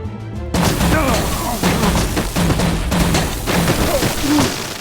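Volley of gunfire in the Batman: The Enemy Within video game, a loud sustained burst of rapid shots and thumps after a shouted command, with voices calling out over the clatter.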